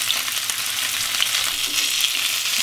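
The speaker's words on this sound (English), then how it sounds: "I just wanna kind of fry from those parts, those sides, because we need crispy parts from all sides" Fish pieces for a fish curry fry in a pan with a loud, continuous sizzle that holds steady from start to finish, close up and uninterrupted.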